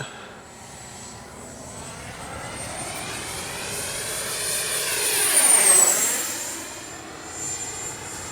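A Freewing Yak 130 70mm electric ducted-fan RC jet streaks past at full speed, its whine rising as it approaches and falling away with a clear Doppler sweep, moderately loud and heard without talking.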